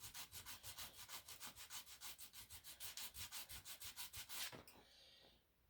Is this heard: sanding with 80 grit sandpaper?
yes